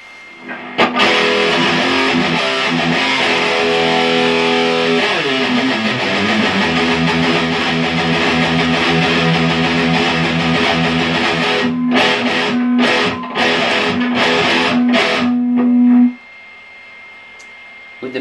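An electric guitar plays through an MXR Smartgate noise gate pedal, a sustained distorted chord ringing with a gliding bend, then a run of sharp choppy strums before the sound cuts cleanly to silence.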